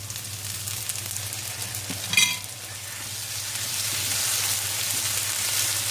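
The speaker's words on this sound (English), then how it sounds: "So I'm going to add a tablespoon of crushed garlic." Crushed garlic, a tablespoon of it, sizzles in a pan of oil while masala fries are being made: a steady, fairly loud hiss with a brief sharper crackle near the start, above a low constant hum.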